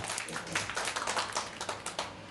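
Scattered hand claps from a small audience in a hypnosis class, a quiet, steady patter of applause that runs for a couple of seconds with no talk over it.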